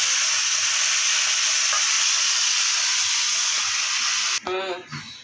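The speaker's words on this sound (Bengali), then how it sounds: "এখন এই ছোটো আলু ভাজা হবে।" Small potatoes fry in hot oil with a loud, dense, continuous sizzle and hiss up close, which cuts off abruptly near the end as a brief voice is heard.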